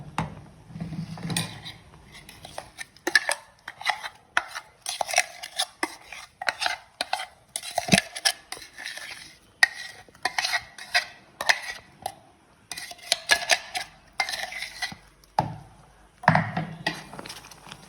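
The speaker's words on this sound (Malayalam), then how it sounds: "തുടരെ ഇളക്കി കൊടുക്കാം" Biscuit pieces being stirred into a thickening milk powder mixture, with repeated scraping and clinking of a spoon against the pan in an irregular rhythm, close and fairly quiet.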